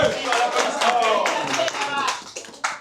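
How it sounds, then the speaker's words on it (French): Audience clapping at a press conference in Kamsar, Guinea, held for an upcoming stadium concert: a close, steady round of hand claps with voices and cheers mixed in, fading slightly before a final burst. "Applaudissez."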